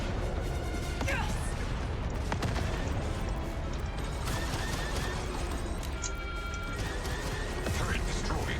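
Explosions and destruction of a turret in a video game, a dense, continuous roar of blasts and crashing debris with sharp impacts scattered throughout, while game voices talk over the din.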